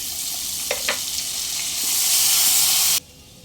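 Chopped tomato hits chili powder frying in a pan for a Bengali parshe fish curry, a loud bright sizzle with a few utensil clicks, swelling then cutting off abruptly.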